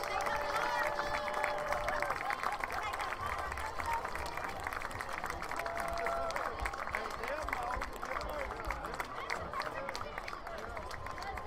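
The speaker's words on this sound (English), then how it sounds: "a big round of applause for these perfect attendance students from Westview Elementary" An audience at a high school football game between Soddy Daisy and East Hamilton applauds for perfect-attendance students from Westview Elementary. Steady, dense crowd clapping and cheering fills the stretch, with talk mixed in.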